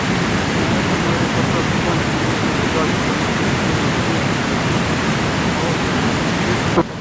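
Sipiso-Piso waterfall at Lake Toba, Sumatra, a 120-metre drop, roars as a steady, dense, broadband rush of falling water, loud and continuous with no other sounds.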